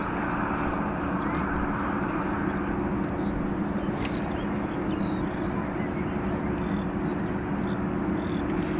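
Embraer E195-E2 jet arriving at Dublin Airport, its steady engine roar loud and continuous throughout with a broad wash of rumble and no break.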